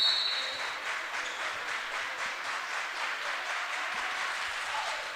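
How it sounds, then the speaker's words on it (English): Steady rhythmic clapping from a crowd in a large echoing gym during a volleyball game, even beats continuing throughout at a moderate distance. "Moundridge keeping that clap going"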